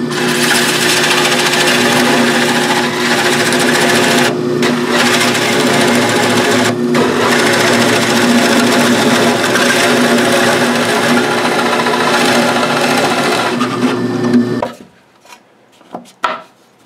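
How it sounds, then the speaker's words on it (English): A drill press bores a bearing recess into plywood with a Forstner bit, giving a loud, steady motor whine and grinding hum with a few brief dips, running about fourteen seconds before spinning down to quiet. "And so I'm going to do that with some Forstner bits."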